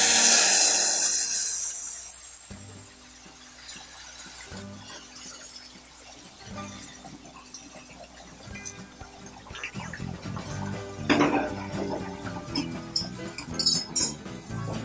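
Boiling water is poured onto roasted semolina in a pan, opening with a loud, hissing steam rush that fades away, followed by scattered spoon clinks and scraping as the mixture is stirred.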